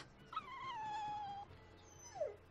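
A dog in Tales of Berseria, a video game, lets out a drawn-out whimpering whine that falls in pitch, then a short rising-and-falling yelp, close and clear over quiet ambience.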